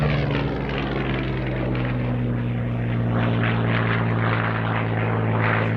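Spitfire Mark 5 flying a slow roll at an evening airshow: a steady, droning piston-engine propeller hum with strong low tones, holding even and fairly loud throughout, with no talking.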